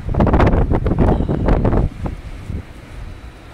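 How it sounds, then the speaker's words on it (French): Strong wind buffets the microphone outdoors in cold air, heavy gusty rumbling for the first two seconds, then easing into a lighter, patchy rush with a few smaller gusts. "Du bien de l'air, du vent, du froid."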